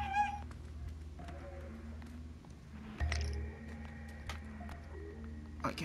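A cat meows repeatedly in the Stray video game, several short cries spread across the stretch over soft low game ambience and occasional thumps, with no speech.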